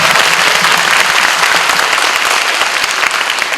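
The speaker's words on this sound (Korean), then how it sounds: "큰 박수와 함께 중앙대학교 다빈치 꿈찾기 프로그램을 시작하겠습니다" A big crowd of students at a university admissions event in Korea gives loud, dense applause to open the program, a sustained roar of clapping close and full throughout.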